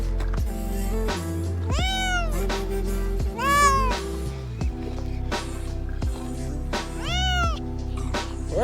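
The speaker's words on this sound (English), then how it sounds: "This cat won't stop crying." A cat on a high-altitude mountain hike cries and meows over and over, loud and close, with rising wailing calls repeating every couple of seconds over a steady low rumble.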